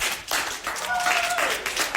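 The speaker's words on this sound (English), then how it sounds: "Yes, everybody can clap." People in a Torah class clap for a guest, giving brief, fairly close applause. A short tonal whistle or squeal rises through the middle.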